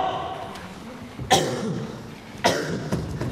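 Two sharp, harsh coughs about a second apart, fairly close, with a softer cough following near the end.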